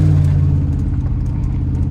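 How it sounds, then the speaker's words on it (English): An old two-wheel-drive truck with a gutted dash and an unhappy transmission revs loud and close, a heavy low engine rumble holding steady for two seconds before dipping briefly at the end. "Well, transmission's not happy in the least bit."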